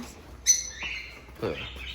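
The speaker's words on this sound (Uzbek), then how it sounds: "Bu valniy to'ti ekan-a?" A budgerigar gives a few short, high chirps and warbles close by in an otherwise quiet room.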